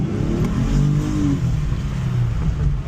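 Engine of a Stinger roaring as it accelerates hard, a loud sustained rev climbing steadily up close, with a dense low growl filling the whole moment.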